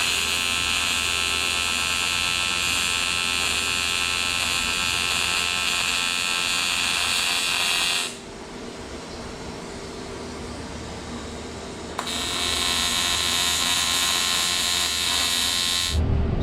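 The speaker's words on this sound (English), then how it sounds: "And now we're just getting our intercooler welded up" Welding tacks on a turbo intercooler for a BMW-engined Z-Kart build, a steady loud electric buzz that drops out briefly around the middle before resuming for the rest of the time, with no talking.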